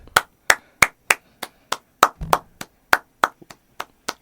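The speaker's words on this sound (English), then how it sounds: "there was pair of hands clapping" A single pair of hands claps about fourteen times in a fairly steady rhythm, each clap sharp, close and loud, with a brief low rumble in the middle and no talking.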